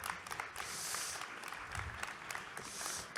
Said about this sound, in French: on peut déjà commencer par vous applaudir